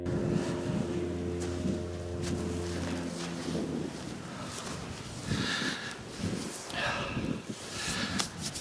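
Wind gusts roar steadily across a small moorland hilltop on Corlick Hill, buffeting the microphone close up, with a low engine-like hum at the start and a voice speaking under the rush.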